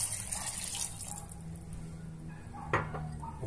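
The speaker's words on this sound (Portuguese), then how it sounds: "Vamos colocar 800 ml de água." Water pours into a cooking pot for shrimp broth, a soft, quiet splashing with a light clink of cookware near the end.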